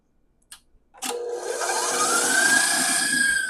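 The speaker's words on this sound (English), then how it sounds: "We have all the ingredients in our mixer. We're going to mix away." An electric mixer starts up in a bowl of icing sugar and egg for fancy tea squares. A couple of soft knocks come first, then a close, steady motor whir that rises slightly in pitch as it runs.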